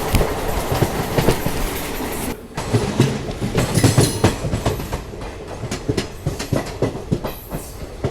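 Passenger train running on rails in Odisha, approaching Khurda Junction, with a dense continuous rumble and rapid clickety-clack wheel beats, loud and close from inside the carriage, briefly dipping before resuming.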